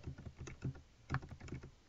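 Fast typing on a computer keyboard while entering figures into a monthly budget, a quick run of close, light key clicks with a few louder strokes, steady and alone with no talking.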